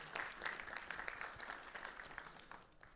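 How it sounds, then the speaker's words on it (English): Applause from an audience at a city council meeting in Montebello, a fairly faint, steady patter of many hands clapping that carries on for the whole stretch and tapers off a little toward the end. "let's still give her a round of applause"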